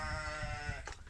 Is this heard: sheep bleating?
yes